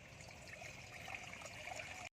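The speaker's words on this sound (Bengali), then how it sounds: "এবার জল দিয়ে দেবো" Water poured into a cooking pot for pasta makes a faint, steady trickling stream that runs evenly for about two seconds with no voices.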